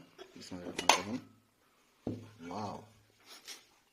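A cooking pot is lifted off a stove and its lid opened while making Bikrampur's traditional bibikhana pitha, giving two sharp metallic clanks and scrapes about a second apart, with a rattling clatter after each.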